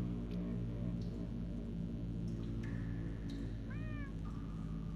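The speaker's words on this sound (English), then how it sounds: "That almost sounds like... cats?" Cats meow in Minecraft: Story Mode, two or three short, close mews near the end over a constant bed of game music and ambient hum.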